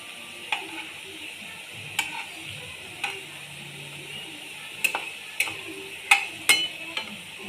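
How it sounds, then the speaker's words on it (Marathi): Colocasia leaf rolls (alu vadi) fry crisp in a pan with a soft, steady sizzle, punctuated by occasional sharp taps and clicks of a utensil against the pan. "पलटी करून घ्यायचं दुसऱ्या साईडनं पण खरपूस एकदम तळून घ्यायचं"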